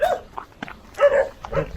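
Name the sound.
dogs barking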